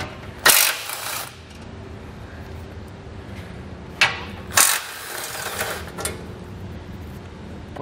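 A socket wrench ratchets out the bolts of a metal guard while a front-mount trailer hitch receiver goes onto a vehicle, giving several sharp metallic clicks and clanks with quieter ratcheting between them in a workshop.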